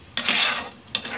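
Two scraping strokes of a spoon stirring boneless chicken chaap in a metal pot, close and distinct, with a short pause between them.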